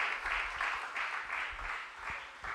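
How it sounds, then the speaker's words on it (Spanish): A church congregation claps in a faint, rhythmic pattern, with soft regular bursts of hand claps repeating evenly throughout. "Dele una ofrenda de palmas al Señor."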